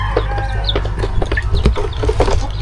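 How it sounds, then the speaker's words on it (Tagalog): Chickens cluck repeatedly in a loud, close, busy flock around a newly built chicken coop, with overlapping calls and a steady low hum in the background and no talking. "Mga manok oh, kanina kayo mga manok yun oh."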